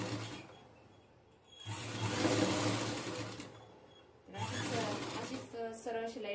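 A sewing machine runs a straight stitch beside a zip chain on a cushion cover, in two motor bursts with a pause between them, with a voice speaking over the second run.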